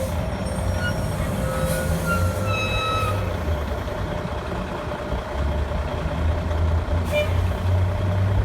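A train rolls through a downtown crossing on a rainy day, a continuous rumble with sustained tonal squeals and a hissing air-brake release, while vehicles wait nearby and a faint beeping sounds.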